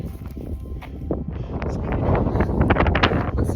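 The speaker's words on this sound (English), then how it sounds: "It's windy." Wind gusts across the microphone in the Superstition Wilderness, a rough continuous buffeting roar that builds slightly louder toward the end, with scattered small crackles and no talk.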